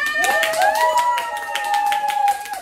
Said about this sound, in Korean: 큰 박수와 환호로 집중해 주시길 바랍니다